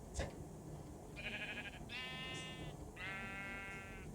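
Sheep bleating in the Minecraft video game, three drawn-out bleats in quick succession after a short click, moderately loud over a faint steady background.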